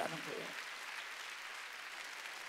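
Congregation in a church service clapping their hands together. A brief voice opens it, then dense, even applause carries on at moderate level throughout.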